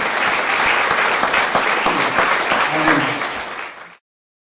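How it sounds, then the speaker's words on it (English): A round of applause from an audience at a talk on women and politics, dense loud clapping from many people that continues steadily, then fades out abruptly. "I'll give them a round of applause because they were really good."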